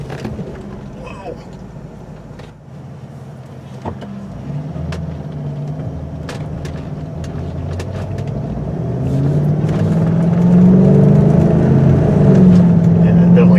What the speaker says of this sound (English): Yeah, definitely got some drive shaft vibration there when we take off.